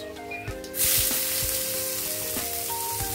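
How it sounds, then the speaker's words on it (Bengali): Chopped onions drop into hot oil in a pan and burst into a loud sizzle that settles into a steady fry as they brown, with soft tonal background music running underneath. "পেঁয়াজগুলো দিয়ে পেঁয়াজটা একটু ব্রাউন করে ভেজে নেবো প্রথম।"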